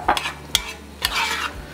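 Alligator meat for sauce piquant is added to a hot pot and stirred, giving sharp scraping stirs at a steady pace over a soft, close sizzle.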